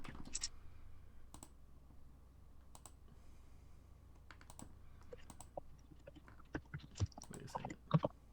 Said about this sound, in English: what are you chewing on?